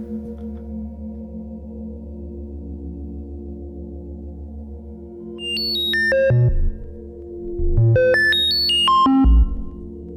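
A modular synth oscillator whose pitch is driven by LFO values through its 1 volt per octave input drones steadily, then sweeps through bursts of fast high-pitched stepped notes that leap up and back down, alone and moderately loud.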